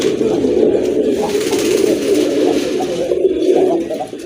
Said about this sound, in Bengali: আরেক জোড়া কবুতর, এটা হচ্ছে গিরিবাজ কবুতর, বিগ সাইজের কবুতর